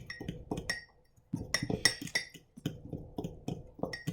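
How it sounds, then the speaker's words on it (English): A spoon clinks repeatedly against the side of a mug while stirring mug cake batter, a quiet series of sharp taps and scrapes with a short pause near the start. "We'll set that aside and then give it one more good mix."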